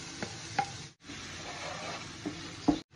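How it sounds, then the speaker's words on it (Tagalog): Chopped garlic and onion sautéing in a pot for a one-pot chicken dish, a steady close sizzle broken by a few stirring knocks and scrapes, with a brief gap near the middle. "Dam natin yung chopped garlic at chopped onion."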